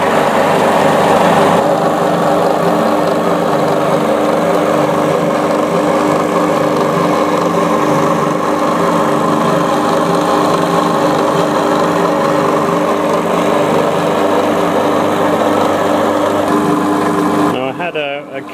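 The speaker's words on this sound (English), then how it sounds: "AC induction motors tend to find it hard to start, so I'm going to have to give it a little bit of a spin." AC induction motor running in a rotary converter, a steady droning hum with a constant tone held throughout and cutting off near the end, while someone talks over it.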